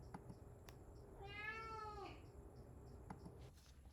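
A pet cat indoors gives a single drawn-out meow in the middle, clear against a quiet room hum with no talking.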